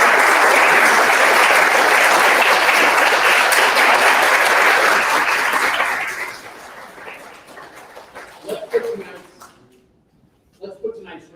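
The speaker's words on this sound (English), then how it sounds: "How about giving them all one big round of applause?" A big round of applause from the audience at a Brownsville school ring ceremony for 25 student ring recipients, loud and dense for about six seconds before thinning into scattered claps and faint voices.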